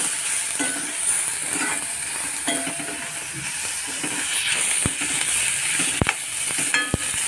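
Dried jawla shrimp sizzles in hot masala in a pan, a steady frying hiss with stirring scrapes and a few sharp clicks of a utensil against the pan, heard close with no talking.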